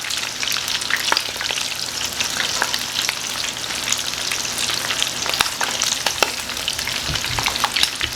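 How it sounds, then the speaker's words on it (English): Coconut shrimp frying in a pan give a steady, close sizzle with crackling oil pops scattered throughout, continuous and fairly loud with no talking. "we're going to go ahead and finish cooking off the rest of our coconut shrimp"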